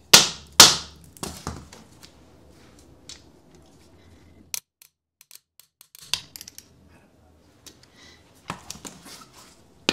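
A spring-force bolt hanger is tapped into place with a couple of sharp loud knocks, followed by a scattering of quieter, irregular ticks and light metallic taps separated by near silence.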